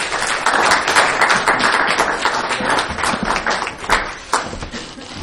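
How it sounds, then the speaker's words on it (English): Applause from an audience at a school Veterans Day assembly welcoming a guest speaker, a dense steady patter of clapping lasting several seconds with a few louder claps near the end. "let's give Dwight a little round of applause and welcome him"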